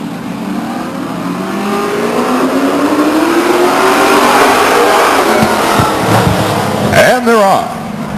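Race cars at a Stockton 99 Speedway race start accelerate hard. Several engines rise in pitch together, loud and close, with a car sweeping past near the end, while an announcer talks over them.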